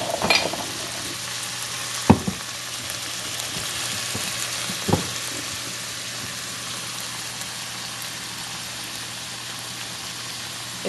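Balsamic vinegar sizzles in a hot pan with chicken and salami for a farfalle dish, a steady close frying hiss broken by a few sharp clicks and clatters, with no talking.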